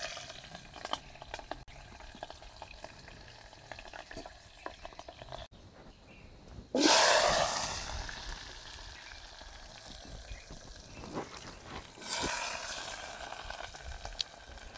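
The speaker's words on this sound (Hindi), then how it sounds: "ये देखिए दोस्तों महाराज जी की सब्जी प्रसादी पक रही है" A potato and tomato vegetable dish cooks in a pot in a cave and is stirred with a wooden stick, giving a soft continuous sizzle and bubble with a couple of louder stirring scrapes.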